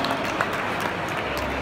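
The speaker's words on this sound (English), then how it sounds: "Big round of applause, ladies and gentlemen," Brief burst of audience applause at an Italian food and wine festival, a dense wash of clapping mixed with crowd noise, short and fairly loud.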